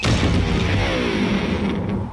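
An electric guitar thrown off a 20-story building crashes down in one heavy, resonant impact, its strings and body ringing in a clanging, droning tail that lasts about two seconds before tapering off.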